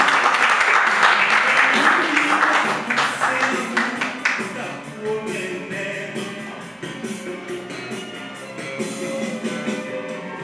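Audience applause at a Miss BPX 2019 semi-final pageant talk show, a dense burst of clapping that is loudest at the start and gradually thins, with a host talking over it.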